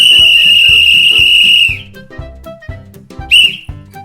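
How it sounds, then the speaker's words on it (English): A sports referee's whistle blows one long steady shrill blast for about a second and a half, then a shorter blast follows, both loud and close over a thumping rhythmic music bed. "I'm glad you're no longer afraid to blow that whistle."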